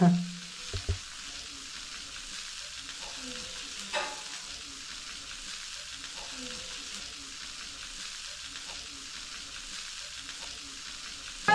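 Steady sizzling of prawns frying on a hot griddle, with a few clinks and stirring sounds near the start and faint background noise.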